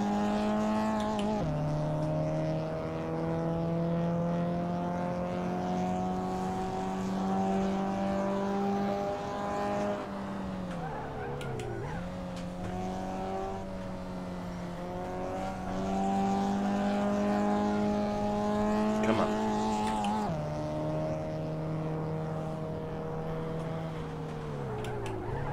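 A Polo N6 race car in Assetto Corsa drones steadily at high revs, its engine note dipping and climbing with gear shifts and corners, continuous and alone.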